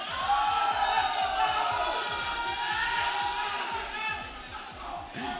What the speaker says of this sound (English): Super hype crowd out here today.